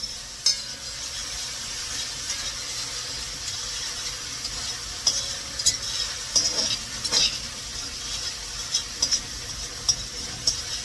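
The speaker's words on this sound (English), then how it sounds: "Stir it, babe, stir it. It's stirring." Seasoning with pimento and thyme stirred in a pot for vegetable rice, a steady close sizzle running throughout with irregular spoon scrapes and taps against the pot, no talking.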